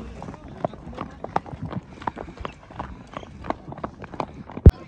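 Hooves of horses arriving at the hippodrome for an ulak game clatter in an irregular clip-clop, moderately distant, with a crowd murmuring and a sharp loud thump near the end.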